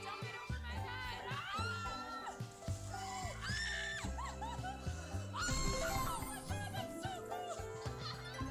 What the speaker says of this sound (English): There's a kid screaming in the background.